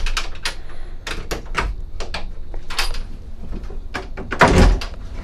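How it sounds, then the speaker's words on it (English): A wooden pocket door in an RV bathroom slides and thunks, with a series of sharp wooden knocks and rattles and a heavier bump near the end. "Actual wood pocket door, which is very, very nice."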